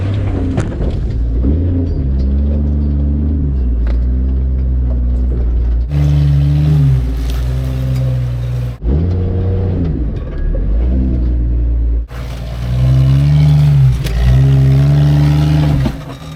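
An off-road vehicle's engine labors and revs loudly as it climbs over a steep pointed rock about tire height, with a steady deep rumble rising and falling through several throttle surges.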